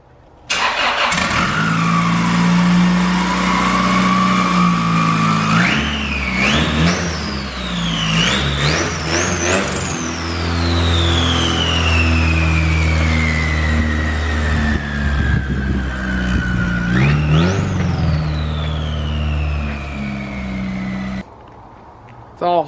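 A turbocharged Honda car with its hood off, custom built and fitted with a blow-off valve, drives and accelerates. The engine is loud and close, rising in pitch through repeated rev sweeps with brief drops between gear changes.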